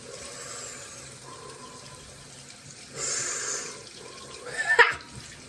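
A bathroom tap runs warm water for washing the face, a steady soft hiss with a brief louder gush of flow and a small splash near the end, close by.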